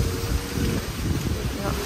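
Strong wind gusting outdoors ahead of rain under dark storm clouds, a steady broadband rush buffeting the microphone with low rumble throughout.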